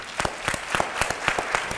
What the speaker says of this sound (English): Y'all give Ellie a round of applause.